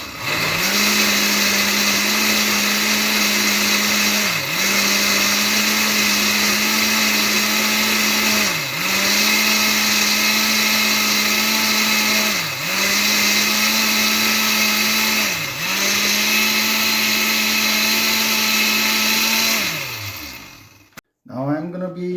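A blender purees dates in one long continuous whir lasting about twenty seconds, its motor pitch dipping briefly every few seconds as the load shifts, loud and close, then it cuts off; no talk.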